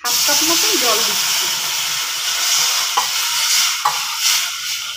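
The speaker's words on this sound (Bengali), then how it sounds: "এবার দেবো একটু জল, হাফ কাপ মতন জল দিচ্ছি।" Hot water, about half a cup, hits browned roasted semolina in a pan over a low gas flame and bursts into a loud, hissing sizzle that continues with bubbling, after a brief voice at the start.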